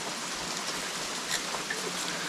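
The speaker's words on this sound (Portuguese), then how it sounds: "que bom essa chuva" Rain falling steadily outdoors at a home building site, a soft continuous broadband hiss with occasional faint drop ticks, fairly close and even throughout.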